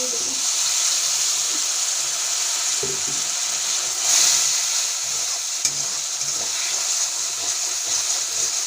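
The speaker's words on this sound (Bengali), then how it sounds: "একটু জল দিয়ে দেবো।" Water is added to a hot pan of Bengali village-style prawn and cauliflower curry, giving a steady bubbling hiss and sizzle with a couple of faint clinks, and no voices.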